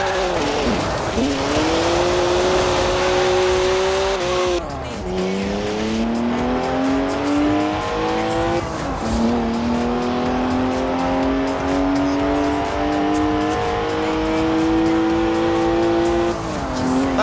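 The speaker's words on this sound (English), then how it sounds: "3-litre straight six, 335 horsepower, 2 turbos, and as much sideways action as you like" BMW 1M with a 3-litre twin-turbo straight-six and 335 horsepower in Forza Horizon 4, revving loudly through several gear changes with rising engine pitch, up close, with tire squeal as it slides.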